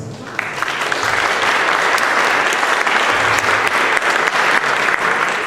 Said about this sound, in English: have a round of applause for them, please.